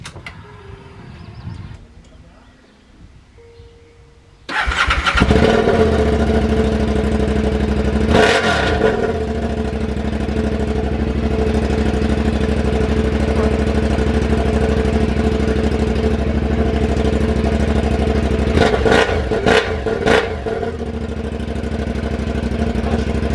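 A car engine roars to life after its exhaust pipe and covers are refitted, settling into a loud, steady running drone with a few sharp revs rising and falling, close by and without talk.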